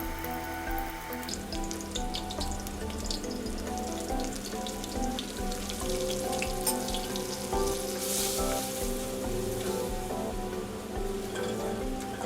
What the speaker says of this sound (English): Cook the onions for 3 minutes and add flour.